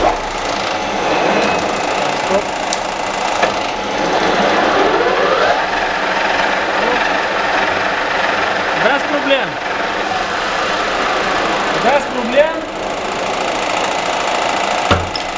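Steady mechanical whirring of a lathe turning a rubber wheel at 1200 rpm, with a constant broadband drone and occasional faint rising whines throughout.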